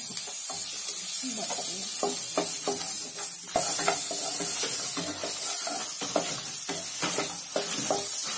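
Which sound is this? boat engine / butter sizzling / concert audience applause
butter sizzling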